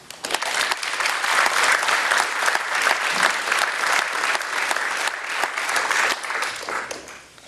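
Sustained audience applause welcoming the chancellor at a university inauguration ceremony, a steady, full clapping from a large crowd lasting several seconds before tapering off.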